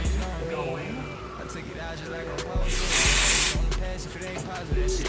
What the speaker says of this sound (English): just a quick spray around the perimeter